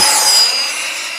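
A radio-controlled model jet plane, a small Hobby Zone P-51D Mustang 450mm, screams past low overhead, a loud high whining roar that peaks early and then fades slightly as it passes.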